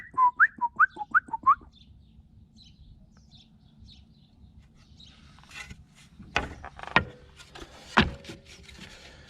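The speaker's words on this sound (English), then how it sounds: "What kind of bird is that?" A bird outdoors sings a quick series of six bright whistled notes near the start, then goes quiet; later come knocks and clatter of pallet wood boards being handled.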